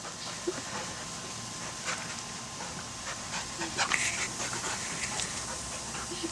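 Jack the dog panting close by in quick rhythmic breaths, with a few faint whimpers, while people talk around him at moderate volume.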